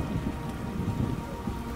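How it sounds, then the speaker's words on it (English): Heavy downpour in The Witcher video game, a dense steady hiss of rain with low rumbling swells that suggest distant thunder, loud and continuous with no voices. "What a downpour!"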